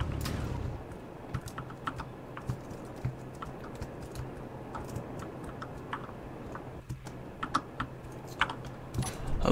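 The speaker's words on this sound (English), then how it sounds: "it's just all intense thinking and keyboard mashing" Rapid, uneven computer keyboard typing with sharp clustered key clicks, close and fairly quiet over a steady low hum.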